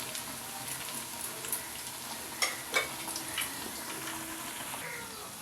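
Ghevar batter fries in a pan of hot fat, producing a soft, continuous sizzle with scattered sharper crackles and pops, a few louder bursts in the middle, and no voices.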